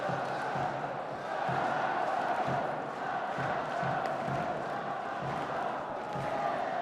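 A crowd of Uzbek fans at an Olympic men's light heavyweight boxing semi-final chants a fighter's name, a rhythmic roar of massed voices with repeated beats, carrying steadily in the arena.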